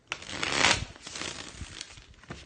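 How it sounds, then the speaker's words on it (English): A tarot deck, the Tarot Illuminati, is shuffled by hand in several quick riffling bursts, close and crisp, with brief pauses between them. "This deck is like a smooth shuffle today."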